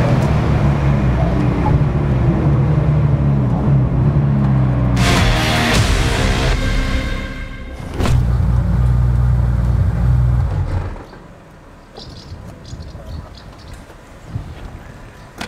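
A Porsche 911 Carrera RS (993) engine drones loudly and steadily while driving, with a sharp gear-change break as it shifts into sixth, then the drone drops away to quieter road and wind noise.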